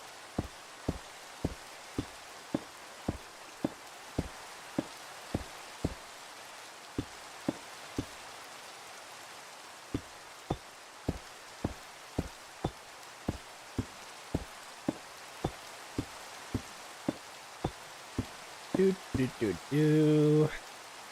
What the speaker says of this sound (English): Ah, these rain sounds are so peaceful.